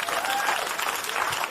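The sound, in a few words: podcast audience applause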